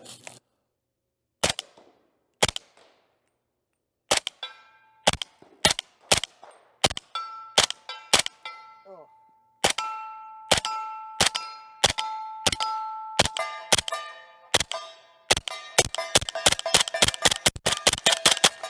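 Single semi-automatic shots from a suppressed SIG LVAW machine gun with a HEXIUM 300 suppressor, fired into dirt outdoors. Sharp, clanging reports with ringing tails come spaced at first, then faster and closer together toward the end.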